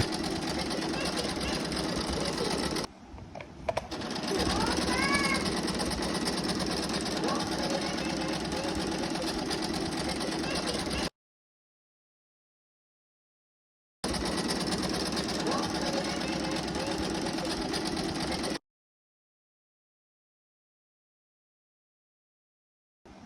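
Singer SM024 sewing machine stitching a decorative design, a loud continuous motor hum and needle chatter running in long stretches, broken by pauses of silence.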